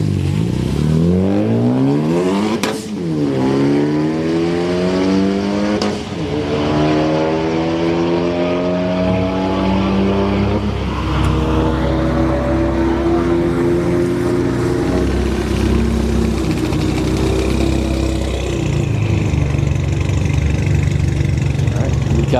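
Several cars engines rev and roar together at a street-night drag strip, a Golf GTI alongside a Scat Pack and a Trans Am, loud and close with repeated rising accelerations sweeping up in pitch, while a voice talks over the racket.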